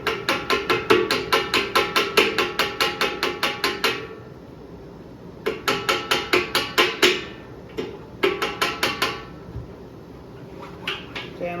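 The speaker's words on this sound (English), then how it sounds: "we're starting to lap away material on the inside of this valve" A brass horn valve from a Reynolds Contempora is lapped with lapping compound, giving rapid rhythmic scraping strokes in bursts separated by pauses, close and fairly loud with no talking.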